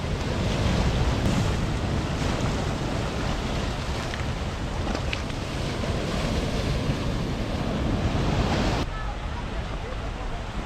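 Strong ocean surf breaking against the rocky shore at Bare Island, La Perouse, a continuous loud roaring wash mixed with heavy wind buffeting the microphone, easing slightly near the end.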